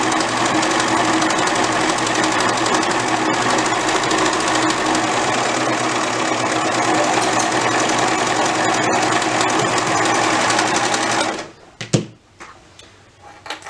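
Loud, continuous whirring of a sewing machine stitching a dress runs for about eleven seconds, then cuts off into a few sharp clicks and handling knocks.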